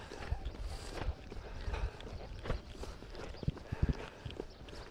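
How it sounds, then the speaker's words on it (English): A relaxed horse trots in a limited space, its hooves striking the ground in an irregular, moderately close clip-clop with some louder footfalls, and a person's voice is faintly present at times. "Okay, so here I'm just gonna let her trot off"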